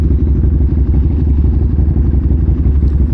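A KTM Superduke 1290R motorcycle engine runs steadily nearby, a loud continuous low rumble with a slightly clattering texture throughout, no voices over it.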